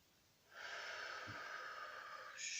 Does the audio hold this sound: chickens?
no